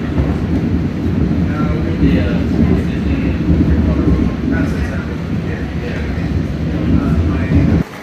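An airport shuttle train ride in Orlando with a constant low rumble and rattling, a few faint clacks, and a murmur of background voices.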